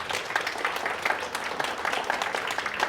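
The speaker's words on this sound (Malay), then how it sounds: "Bagi tepukan tuan-tuan kepada Encik Hajar." An audience applauding the MC at a seminar, a dense patter of many hands clapping that carries on steadily at moderate loudness through the whole moment, with no one speaking over it.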